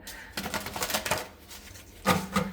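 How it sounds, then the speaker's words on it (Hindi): Large tarot cards being shuffled by hand, giving repeated soft papery riffling and flapping bursts in uneven rhythm, close and fairly clear, with a louder burst near the end. "अब ये कार्ड्स ना काफ़ी बड़े हैं, तो ये ऐसे ऐसे शफल नहीं हो पाएंगे, तो मुझे बार बार इनको ऐसे ही शफल करना पड़ेगा."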